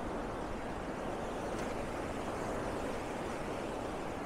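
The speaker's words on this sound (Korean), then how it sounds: "물소리 좋다." A mountain stream on Mt. Seorak in autumn flows in a steady, dense, unbroken rush, loud and close, with no voices over it.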